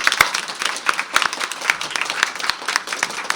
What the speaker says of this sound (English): this round of applause from all of us is for all of you